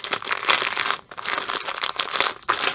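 A padded outer envelope crinkles and crunches loudly at close range as a diamond painting craft item is squished inside, giving steady crackling with brief pauses.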